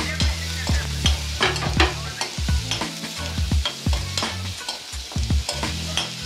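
Paneer fries with finely chopped garlic and ginger in a hot pan, with steady sizzling and repeated scrapes and clacks of a stirring spoon, close and busy, with no talk.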